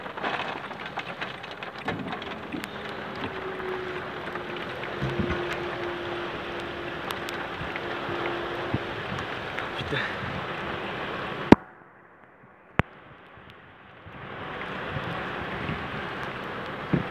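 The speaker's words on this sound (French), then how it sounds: "Oh, le vent il se lève là. Putain. C'est beaucoup de rafales." Strong wind gusting during a thunderstorm in Livron, Drôme, roaring and buffeting the microphone with rushing noise, then dropping to near silence for a couple of seconds before resuming.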